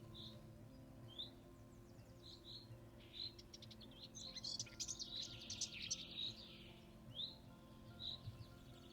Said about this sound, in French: Les pinsons ne font pas que chanter, ils se parlent aussi.